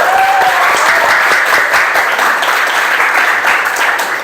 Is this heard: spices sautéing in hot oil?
no